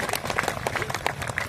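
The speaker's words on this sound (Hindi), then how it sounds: "ताली बजाओ बोले।" An audience at a religious storytelling gathering claps in a quick, uneven patter of many hands, short and lively with some murmuring mixed in.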